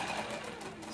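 A sewing machine stitching during a batch sewing session, a short, faint, steady mechanical whir heard alone.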